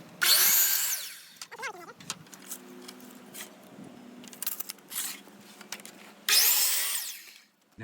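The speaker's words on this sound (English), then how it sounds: "When you're cutting a new piece of trim, I always cut off the factory edge" A power saw cuts wooden door trim in two loud, close bursts at the start and the end, with quieter handling and knocking noises between them.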